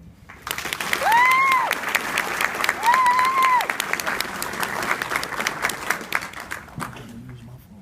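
An audience at a heritage observance event bursts into sustained applause to welcome an Army first lieutenant to the stage, a dense wash of clapping from a large crowd that swells, holds steady, then tapers off, with a brief whistle early on.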